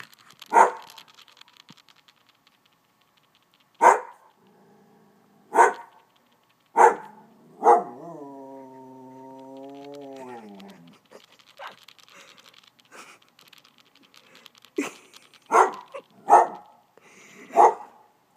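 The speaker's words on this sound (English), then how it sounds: "My dog is going nuts." A dog barks excitedly in sharp, loud, well-spaced single barks, with a drawn-out whining howl in the middle and a quicker cluster of barks toward the end.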